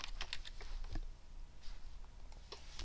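Faint, uneven bursts of typing on a computer keyboard, quick clusters of soft clicks separated by short pauses, heard close in a quiet room.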